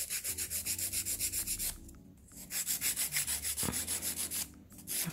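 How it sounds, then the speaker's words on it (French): Nail file rasping across a gel nail extension in rapid back-and-forth strokes, close and steady, with two brief pauses between bursts. "Celle-là, je viens les retirer avec ma lime."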